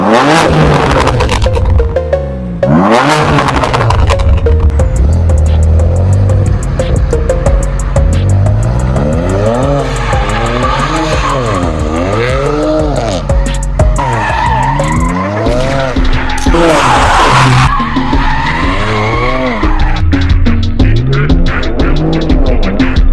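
A stage 2+ N54 BMW 335i is thrown hard around a roundabout, its engine revving up and down in loud repeated sweeps as the tyres squeal and skid through the turns, close and continuous.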